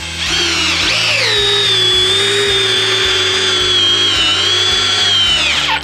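A Milwaukee drill drives an 8-inch TimberLOK screw into timber, a loud, steady high-pitched motor whine with a grinding load that runs continuously for several seconds before winding down.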